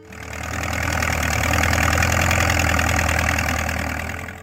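A 1940s American tractor's 154 cubic inch, water-cooled four-cylinder engine idles with a steady, loud, low chugging drone that fades in, holds evenly and tapers off, with no voices.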